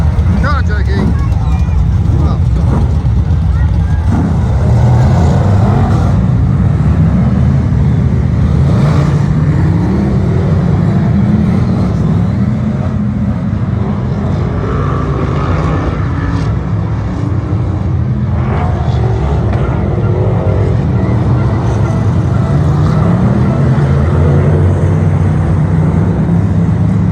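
A loud car engine in an F1 stock car runs steadily, roaring and droning close by with varying revs, while people talk over it.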